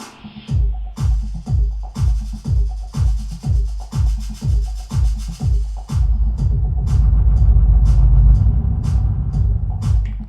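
Echo effect on a Mixars Primo Serato DJ Pro controller: a thumping kick-driven beat repeats steadily, then dissolves into a dense, smeared wash of repeating echoes that swells and sustains loudly; no voices.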